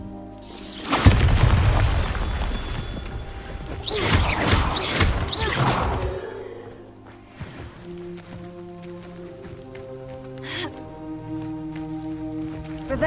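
A Bombarda spell in Hogwarts Legacy goes off as a heavy, close boom. Crashing debris follows in several loud bursts, then a quieter stretch where tonal game music carries on.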